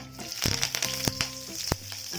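Leaves crackle and sizzle in hot oil with sharp popping bursts, close and lively.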